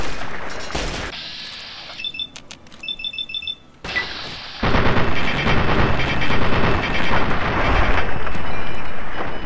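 SMG fire in Fallout 3 bursts loud and close, with choppy rapid shots early on, then a sustained, dense roar of automatic fire and blasts filling the second half.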